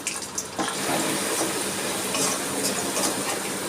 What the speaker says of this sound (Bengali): এবার আমি কটা গোটা রসুন ভেজে নিচ্ছি।